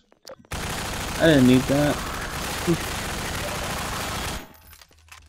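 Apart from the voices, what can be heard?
gunfire in video game Half-Life 2: Episode One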